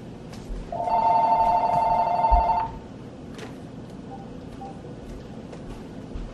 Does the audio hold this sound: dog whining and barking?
no